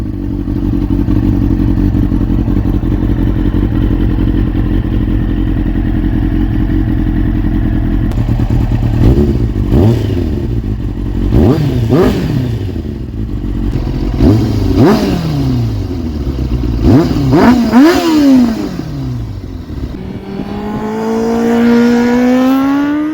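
A 2001 Kawasaki ZX6R sport bike with a Scorpion short-can exhaust idles loudly up close, then gets blipped repeatedly, sharp revs rising and falling in quick bursts before a final longer rev sweeps upward.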